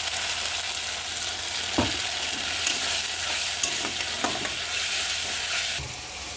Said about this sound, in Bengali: মশলা থেকে কিন্তু তেল ছেড়ে দিয়েছে। এবার ওর সঙ্গে যে মশলার জলটা ছিল সেটা দিয়ে দেবো।